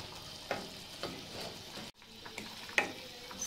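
Minced keema fries in oil in a pan, a soft steady sizzle with occasional stirring scrapes and taps of a spoon, heard close and fairly quiet.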